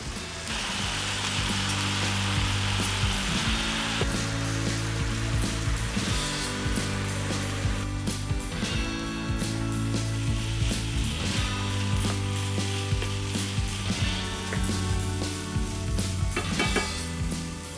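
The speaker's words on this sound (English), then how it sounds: "Fry up until it's brown and add the eggplant" Beef mince and eggplant fry in a pan with a loud, continuous sizzle, punctuated by the scrape and clatter of stirring against the cookware.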